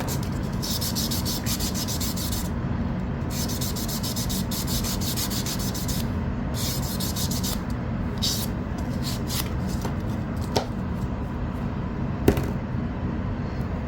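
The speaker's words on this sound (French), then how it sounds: "Si vous voyez des arêtes trop grosses, on reprend la lime." A hand file rasps along the edge of a quilting template in long, continuous, close scraping strokes, with a couple of sharp clacks near the end.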